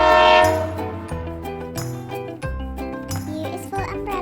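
A loud train horn blares in sustained harmonic blasts, several overlapping tones sounding in uneven bursts with short gaps, close and dominant throughout.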